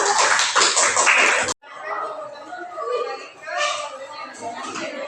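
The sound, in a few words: classroom clapping for group 1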